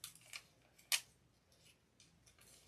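Scissors snip through fabric to cut out Christmas tree and gingerbread girl shapes from a pattern, giving a few faint, separate snips with one sharper, louder cut in the middle, alone in a quiet room.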